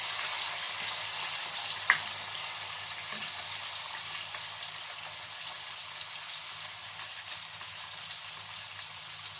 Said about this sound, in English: you lower the fire and put in my mackerel, my smoked one. That one. That one, so I'm going to fry it.